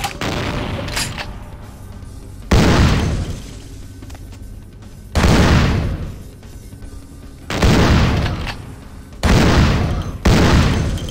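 Gunfire in Vampire The Masquerade: Bloodlines, with five heavy booming shots spaced a couple of seconds apart, each loud and sharp with a decaying tail over a steady background of game noise.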